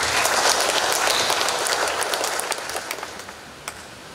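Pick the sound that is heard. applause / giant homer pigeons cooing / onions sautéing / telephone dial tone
applause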